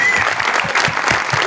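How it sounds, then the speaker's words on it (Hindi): Studio audience applauding on a talk show set, a dense, steady wash of clapping held at an even loudness throughout, with a faint voice briefly underneath. "तालियां."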